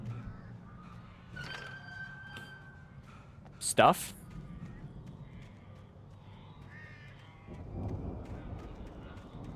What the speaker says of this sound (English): I hear birds still.